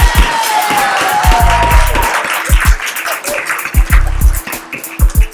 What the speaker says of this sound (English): Yeah, that's applause